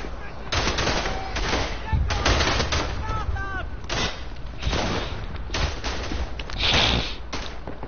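Maxim machine gun firing on a World War I battlefield in Verdun, with repeated sustained bursts of rapid automatic fire amid distant explosions and battle noise, loud and continuous throughout.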